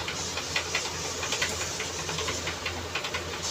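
Bangda (mackerel) fish curry coming to a boil in a pot gives a steady close hiss with faint bubbling, a constant rushing texture with no speech.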